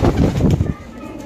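Pigeons coo in low, throaty rolls at a crowded pigeon market, close by and overlapping, while people talk nearby.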